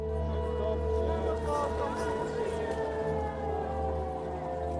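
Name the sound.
air raid alert siren in Kyiv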